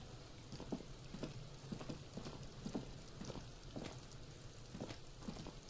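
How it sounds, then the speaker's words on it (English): A rainstorm ambience from the video game Disco Elysium, steady hiss of falling rain with a patter of heavier drops and rhythmic knocking on top, moderately loud and continuous with no voices. "I thought it like started storming out of nowhere"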